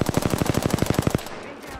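Rapid automatic gunfire in the Apex Legends video game, a tight burst of about a dozen loud, evenly spaced shots lasting just over a second before cutting off into quieter ambience.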